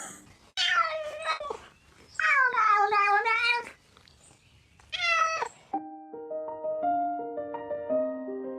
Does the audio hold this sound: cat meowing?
yes